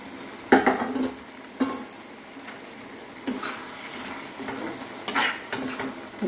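Curry sizzles in a hot pan while a spoon scrapes and stirs, giving irregular clinks and bursts of frying over a steady hiss.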